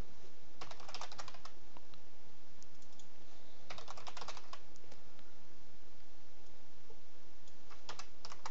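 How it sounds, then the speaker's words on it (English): Close computer keyboard typing while writing a C++ Qt program, coming in quick clusters of clicking keystrokes separated by short pauses, with no voices. "that was a lot more typing than I anticipated for some reason"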